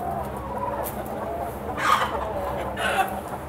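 Chickens and a rooster cluck inside a poultry shed, with short, close cackles rising above a low, steady hum of the flock.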